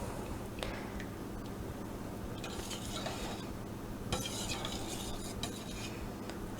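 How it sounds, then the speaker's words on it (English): Butter melting in a pot is stirred with a utensil, producing soft scraping and light clinks against the metal, irregular strokes at moderate closeness with a faint sizzle underneath and no speech. "we're just stirring it to get it melted and combined"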